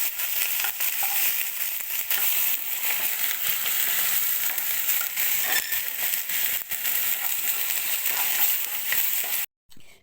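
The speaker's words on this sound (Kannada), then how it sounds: "ಎರಡನ್ನೂ ಹಾಕ್ಕೊಂಡು ಫ್ರೈ ಮಾಡಬೇಕು." Garlic and ginger fry in hot oil for pepper chicken, a loud, continuous close-up sizzle with fine crackling and occasional stirring scrapes, cutting off abruptly near the end.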